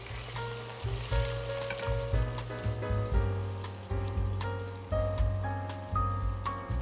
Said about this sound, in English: Heat up your vegetable oil, then add the chopped onion and fry until translucent.